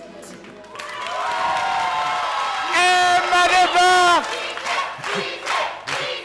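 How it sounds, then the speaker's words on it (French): A television variety show audience cheers and whoops loudly, with sustained shouting and clapping that swells in the middle. A voice speaks briefly over the crowd. "On va l'applaudir bien plus fort"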